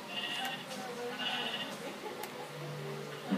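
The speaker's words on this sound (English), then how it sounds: "Right, little sheep? Oh, sheep." Sheep bleating in a Minecraft survival multiplayer game, a few soft wavering cries repeating over faint background game sound, fairly quiet throughout.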